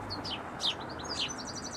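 Birds calling at a Norfolk nature reserve with managed water: several high, short chirps and whistled notes scattered at moderate distance over a quiet outdoor background.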